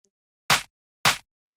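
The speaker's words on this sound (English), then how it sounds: "I started with this snare sample." Two punchy snare drum sample hits, dry and organic, spaced about half a second apart with clean silence around them, for a beat.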